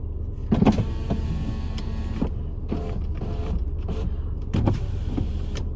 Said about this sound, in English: I want to put some windows down, let some air through.